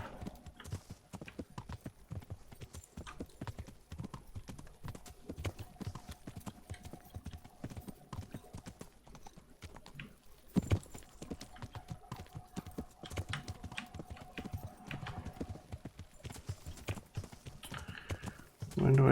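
A horse's hooves clip-clop at a trot through a night scene in the video game Kingdom Come: Deliverance. The hoofbeats are steady and rhythmic throughout, with a brief whinny and some faint voice in the background.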